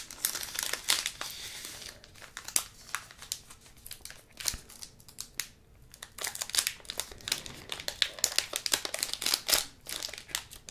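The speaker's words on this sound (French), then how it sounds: "On va ouvrir le deuxième booster reine de glace maintenant." Crinkly plastic foil of an Ice Queen Pokémon booster pack being torn open and handled up close, a dense run of sharp crackles and rustles with brief pauses, no voice.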